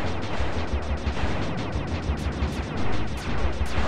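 Gunfire in the Sly 2: Band of Thieves video game, a quick run of sharp, close shots cracking over a steady, noisy backdrop of game sound.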